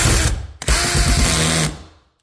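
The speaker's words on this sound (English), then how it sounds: "Just set the drill to make sure that you set the drill to either 1 or 2." A power drill driving screws to mount a Monoprice 6.5-inch two-way polypropylene ceiling speaker: a loud, close whirring burst, a brief stop and restart, then the motor winds down and fades out.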